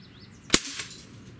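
A Ruger 10/22 air rifle by Umarex fires an alloy pellet: one sharp, loud close shot followed by a fainter second crack a moment later, then quiet background.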